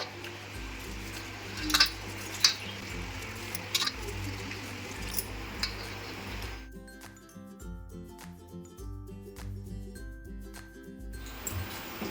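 Gobindobhog rice washed in water in a home kitchen, soft clinks and ticks of grains and a vessel with gentle sloshing, faint and steady, with no talk.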